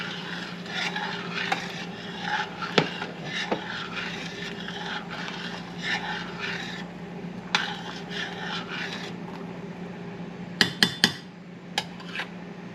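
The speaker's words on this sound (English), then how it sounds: "Stir it around so it doesn't stick to the bottom." Mueller's elbow pasta stirred in boiling water in a pot: a utensil clinks and scrapes against the pot in uneven bursts, with a sharper cluster of knocks near the end, over a low, steady simmer.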